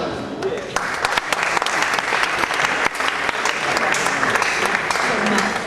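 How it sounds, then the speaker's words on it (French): Steady, loud applause from a studio audience fills the whole stretch, dense and even with no pauses. "j'invite sur ce plateau, sous vos applaudissements, Christelle Dibata."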